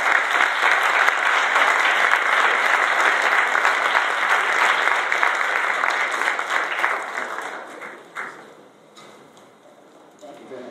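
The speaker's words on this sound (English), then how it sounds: "So give yourselves a hand" An audience applauds at a race exercise event, loud sustained clapping that fades away toward the end, leaving only a few scattered claps.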